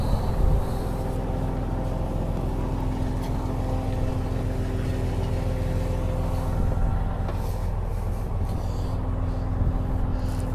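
Hydraulic pump running on a Mercedes Unimog FLU419 SEE tractor with backhoe, a steady close mechanical drone with tonal hum holding even throughout, no talking.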